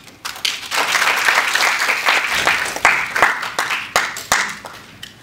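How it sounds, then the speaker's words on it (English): An audience at a marketing competition info day applauds after a speaker's talk. Dense, loud clapping starts quickly and holds for several seconds, then thins into scattered individual claps as it fades. "please one more clap hand for Plum"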